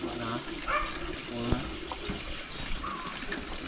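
Water running from a tap at an outdoor hut kitchen, a soft steady trickle and splash, faint, with a bird calling and background noise around it.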